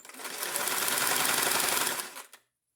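A sewing machine runs close and loud in one steady burst of rapid stitching, backstitching briefly then sewing forward to lock the stitch, for about two seconds before stopping abruptly.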